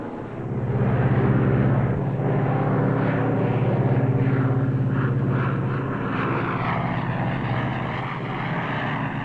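A 1953 Lockheed L-1049 Super Constellation's piston propeller engines drone steadily at climb power, a loud, continuous throbbing roar heard from inside the aircraft.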